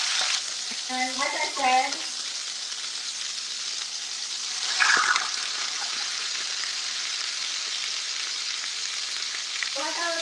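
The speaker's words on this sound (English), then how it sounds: "I'll let it cook for a second before I start breaking it up even more." Food fries in a hot pan with a steady, close sizzle that runs throughout, with a brief stir partway through and a voice speaking briefly at the start and end.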